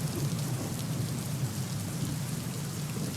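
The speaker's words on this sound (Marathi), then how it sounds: "मुंबईमध्ये मुसळधार पाऊस कोसळतोय" Heavy monsoon rain falls in Mumbai as a dense, even hiss with a low rumble underneath, moderately faint and steady for the whole stretch, with no voices.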